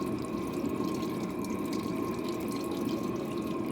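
Coolant fluid draining from a loosened thermostat plug on a car into a pan, a steady close trickling and splashing of liquid that runs on evenly throughout with no voices.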